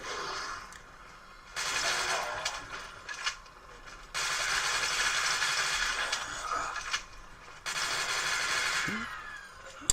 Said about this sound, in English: Let's just shoot a few more zombies, then move on to Spider-Man.